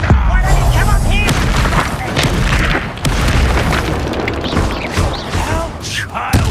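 Fire spell cast in Hogwarts Legacy, a loud, dense burst of booming, crackling blasts that rolls on steadily, with a character's voice shouting over the effects.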